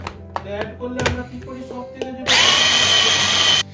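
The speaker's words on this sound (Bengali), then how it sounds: "এটাকেও চপারে দিয়ে একেবারে মিহি করে চপ করে নিলাম" An electric food chopper mincing boiled corn and peas: a few hard knocks and taps, then a loud, close, high-pitched motor whir that runs for just over a second and cuts off abruptly.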